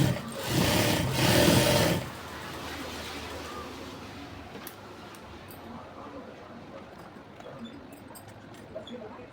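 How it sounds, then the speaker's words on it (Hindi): A sewing machine stitches palazzo pants fabric in one loud, close burst of about two seconds, then stops, leaving a quiet room with faint background noise. "तो पहले हम सिलाई मार के इस तरह से ले लेंगे।"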